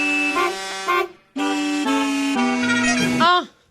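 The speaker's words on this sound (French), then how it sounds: "Oui, ce sont des klaxons." Car horns honk out a song melody, a string of sustained tonal blasts with short gaps and pitch changes, loud and close with no talking over them.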